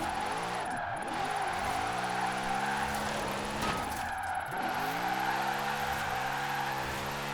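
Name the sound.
Lamborghini drifting in video game Forza Horizon 4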